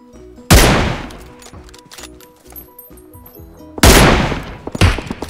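Two loud, sharp gunshots in PUBG Mobile, one near the start and another about three seconds later, each with a booming tail, with quieter game sounds and small clicks between them.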